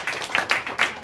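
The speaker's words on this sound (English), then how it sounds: "Let's have another round of applause." Applause from a small classroom audience after a student song performance, a few hands clapping in uneven bursts, fairly close and moderately loud.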